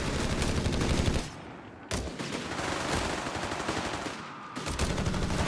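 Bursts of rifle squad gunfire from the strategy game Company of Heroes 3, dense rattling volleys that cut out briefly twice before resuming, loud and continuous with no voices.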